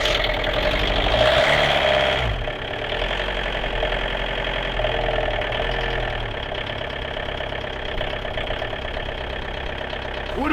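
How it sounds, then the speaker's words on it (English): A high-mileage VW Golf diesel engine idles with a steady low knocking rumble, starting a bit louder then settling into an even running drone, close by. "That engine fired up a bit."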